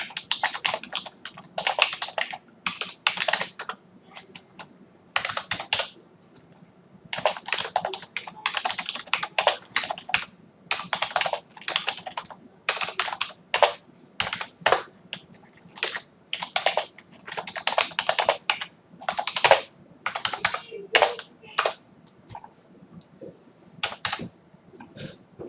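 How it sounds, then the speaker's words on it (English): Fast, uneven clatter of typing on a computer keyboard, close and clear, with quick runs of keystrokes broken by short pauses over about twenty-five seconds. "Ooh, can't type today."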